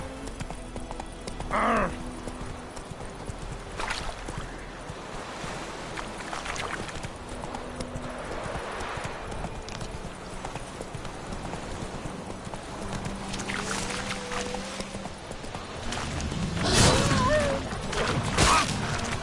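Roach, the horse in the video game Witcher 3, gallops with rhythmic hoof clip-clops under game music and ambience, with a few snorts and whinnies; a voice briefly growls over it.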